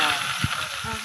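Potatoes frying in hot oil for a Chittagong-style tiger chicken biryani, a brief close sizzle with soft stirring thumps, and a voice speaking over it.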